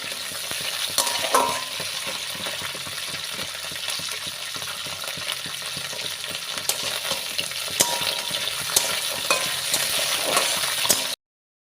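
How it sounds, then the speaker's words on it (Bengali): Homemade bori, dumplings of ash gourd and biuli dal, frying in hot oil, a close, continuous crackling sizzle broken by scraping and stirring clinks from a spatula. "এই তেলেই ভেজে নেব কয়েকটা বড়ি।"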